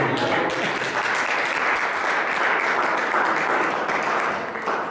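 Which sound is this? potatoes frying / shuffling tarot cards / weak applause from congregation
weak applause from congregation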